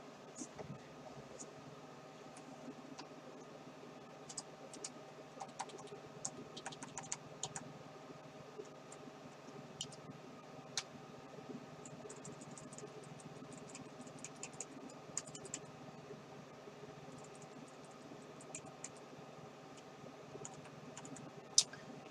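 Quiet tapping on a computer keyboard that is not working properly, scattered soft clicks in irregular bursts with faint room noise behind.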